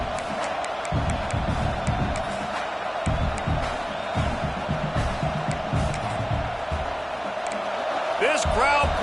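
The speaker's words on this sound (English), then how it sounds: "This crowd bringing the energy and noise early." A college football stadium crowd roars continuously at a Texas A&M versus USC game, a dense, loud, sustained wall of noise with bursts of cheering and whoops, while a commentator speaks over it.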